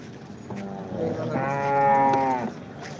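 At a busy livestock market in Modnimb, a cow gives one long, drawn-out moo that rises and then falls away, close and loud over a steady background murmur of crowd noise.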